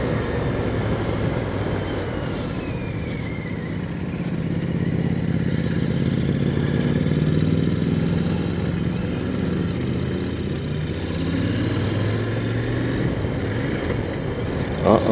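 A Royal Enfield Interceptor 650 motorcycle engine drones steadily while riding, a loud continuous low rumble with wind noise that swells slightly mid-ride and holds without speech.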